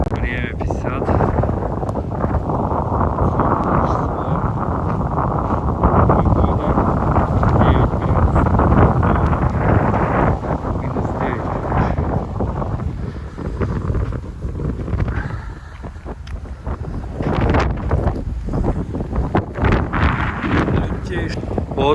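Fierce blizzard wind roars steadily across a parking lot in Irkutsk, gusting loudly against the microphone with brief lulls and dry poplar trees swaying nearby.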